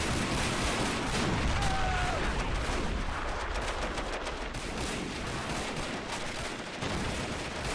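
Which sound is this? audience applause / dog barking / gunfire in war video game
gunfire in war video game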